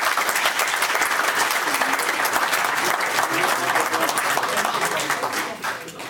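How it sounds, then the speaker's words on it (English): Steady, dense applause from an audience at an online talk on the Chinese stock and currency market, loud and continuous before easing slightly near the end. "So I hope you heard the applaud"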